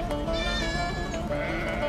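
A goat bleats loudly and close in a rural farm setting, one drawn-out wavering call followed by a second, with livestock murmur beneath and no talk.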